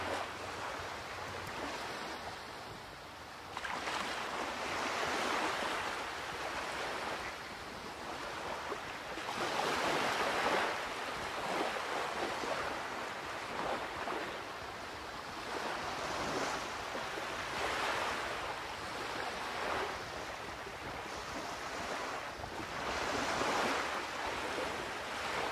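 Surf rolls onto the beach at Shell Island, Florida, in broad repeated swells, with steady wind rushing across the microphone and no voices.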